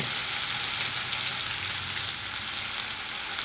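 Onions frying for fish biryani hiss and sizzle in a hot pan, a loud, steady crackle that fills the clip without pause and with no voices.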